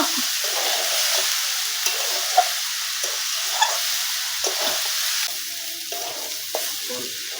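Chopped banana stem cooking in a pan for a traditional Bengali ghonto, with a steady sizzle and frying hiss and occasional stirring scrapes and clinks, close and continuous, with no talk.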